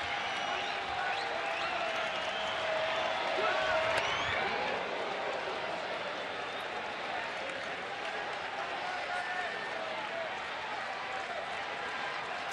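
A big crowd at a 2009 Angels at Tigers baseball game in Detroit roars as a broad, sustained wash of cheering and clapping, swelling early then holding steady, with a commentator talking over it.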